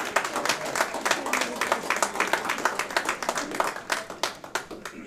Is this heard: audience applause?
yes